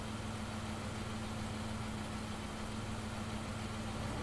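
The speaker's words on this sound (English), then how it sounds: "The sound of an engine brought me back to reality." A bus engine in the visual novel game Everlasting Summer idles steadily, a constant low rumbling drone with a faint hum, unbroken for a few seconds.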